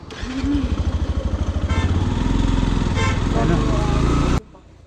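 A motorcycle engine idles and revs up close with a steady chugging pulse, a brief horn toot, then cuts off abruptly.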